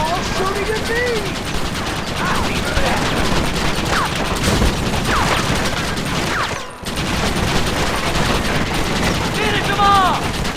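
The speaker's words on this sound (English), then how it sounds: "Why are they all shooting at me?" Dense, continuous gunfire and clattering action noise from a firefight in the Western video game Red Dead Redemption, set in New Austin, with a brief dropout midway and faint voices mixed in.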